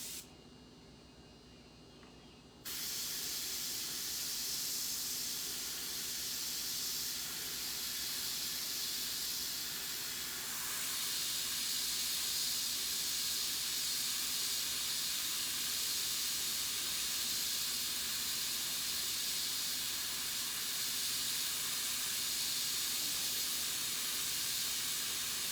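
Airbrush spraying paint onto a baseball helmet, a steady broadband hiss that starts after a brief quiet moment and runs continuously close to the mic, with slight shifts in intensity.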